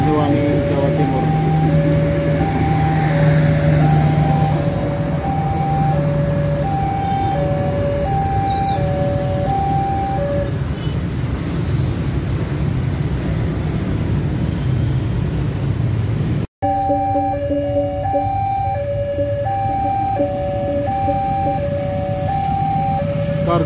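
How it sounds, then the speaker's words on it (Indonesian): A freight train passes straight through Bekasi station with a continuous loud rumble and wheel noise, while a melodic station chime or announcement tone repeats over the top. "Kargo melintas langsung."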